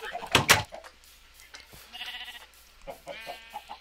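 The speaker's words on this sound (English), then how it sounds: "Eat, sheep, eat!" Sheep in a video game, heard as a sharp burst of noise followed by a few wavering bleats of moderate loudness against quiet background.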